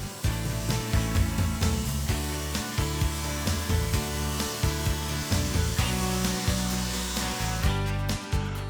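A saw making a tapered cut through a wooden stile held in a taper jig, for a Craftsman-style mantel clock. It runs as a loud, steady machine roar with repeated strikes and rhythmic pulses throughout.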